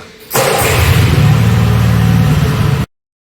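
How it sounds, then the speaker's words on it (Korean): A walking tiller's small engine starts abruptly and settles into a loud, close, steady low-RPM idle with a throbbing pulse, then cuts off sharply. "시동을 켜고 RPM을 낮춥니다."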